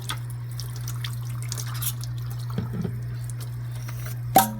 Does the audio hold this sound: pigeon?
no